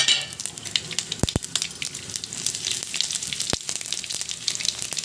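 Mustard seeds, cumin and dried red chilies crackle in hot oil as the tempering for a raw banana stir-fry, a dense, steady sizzle with sharp pops scattered throughout, close and alone.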